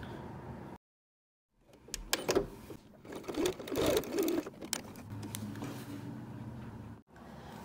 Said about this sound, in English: step of the sewing machine is to sew straight across here, right over your elastic